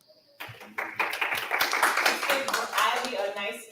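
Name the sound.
audience applause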